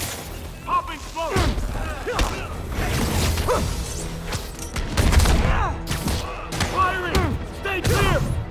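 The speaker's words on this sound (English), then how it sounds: "Popping smoke!" A smoke grenade pops amid gunfire during combat in Marvel's Spider-Man: scattered sharp bursts, whooshes and thuds at close range, with shouted voices throughout.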